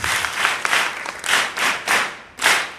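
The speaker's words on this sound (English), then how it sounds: "Let's give her a round of applause" Parents and learners applaud at a school prize-giving ceremony, a brief burst of clapping that swells in uneven waves and fades, moderately loud and without talk.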